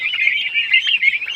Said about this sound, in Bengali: এখানে ছোট টার্কি আছে